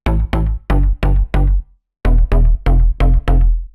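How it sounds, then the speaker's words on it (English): Percussive deep house synth bass preset called Bass Omnia, playing two quick rhythmic phrases of short, punchy plucked notes with bright attacks and a brief pause between the phrases. "Bass Omnia is a really percussive bass and sounds like this."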